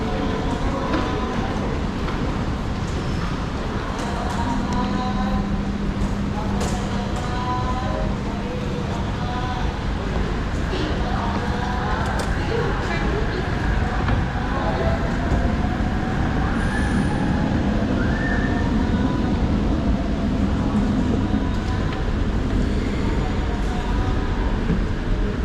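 An LRT light rail train in Kuala Lumpur runs along its track, steady rumbling and rolling with wheel squeal and faint clatter throughout, loud and close, as if heard from on board or beside the line.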